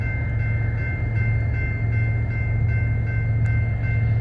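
A loaded coal freight train begins to move, giving a loud, steady low rumble with a droning tonal whine. Faint clanks from the cars sit under the rumble at close range.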